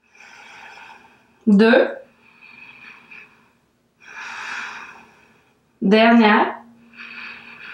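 Deep breathing during a yoga abdominal exercise: several slow, audible breaths with two sharp, forceful exhalations, close-up, while an instructor speaks between them.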